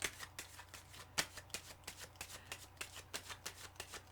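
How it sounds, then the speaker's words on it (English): Tarot cards are shuffled close by in a quick, soft rhythm of repeated riffles and taps, faint and steady, with no talking over them. "Sorry, I need another shuffle."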